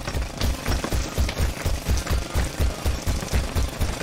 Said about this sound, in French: Le marteau-piqueur casse le béton.